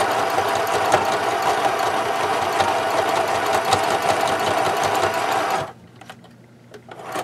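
Close, loud sewing machine running steadily for over five seconds as it stitches backwards and forwards along a travel case belly band, then stopping abruptly into near silence.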